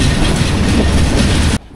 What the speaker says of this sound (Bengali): আস্তে আস্তে করে ট্রেন আবার ছুটে চলল গন্তব্যের দিকে